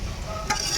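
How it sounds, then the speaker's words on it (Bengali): Fried potatoes are scooped out of a hot oily pan into a bowl: a scraping spatula stir over a low continuous sizzle, close up, ending in a sharper clatter. "আলু ভাজা বাটিতে তুলে রাখা হচ্ছে"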